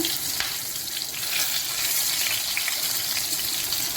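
Pointed gourds stuffed with fish roe frying in oil in a pan as they are turned, giving a steady, close hiss and crackle of sizzling with a few soft scrapes, no voices.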